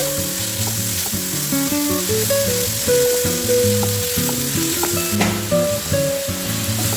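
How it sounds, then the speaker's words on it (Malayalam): Onions for a prawn roast sauté in a hot pan, sizzling and crackling steadily and close, while music plays in the background. "അപ്പോൾ നന്നായിട്ട് വാടി വരികയാണ് നമ്മുടെ ഉള്ളി."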